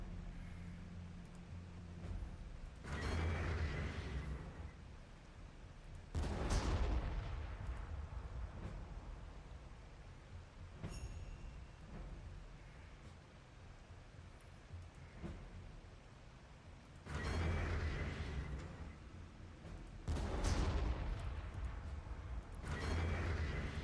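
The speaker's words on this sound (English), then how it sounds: "But if I burn them down with artillery" Artillery fire booms through the Warhammer 40K Armageddon strategy game in heavy, rumbling blasts that come in pairs, with quieter mechanical battlefield noise between the impacts.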